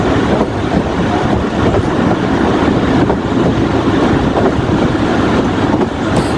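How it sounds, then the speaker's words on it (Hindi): Jaffar Express passenger train running through the Bolan Valley, recorded from on board: a loud, steady rumble of wheels and carriage noise with faint rhythmic clatter throughout, no voices. "इस ट्रेन ने जाफर एक्सप्रेस में स्पीड पिक की, लेकिन फिर उसने ब्रेक्स लगा के स्पीड को कंट्रोल किया"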